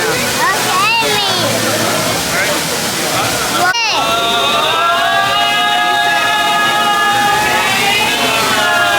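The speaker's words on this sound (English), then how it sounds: "that's a waterfall. That's not rain. Waterfall." Indoor waterfall at a Rainforest Cafe roars as a loud, continuous rush of water, with a whooping, rising tone and people talking over it.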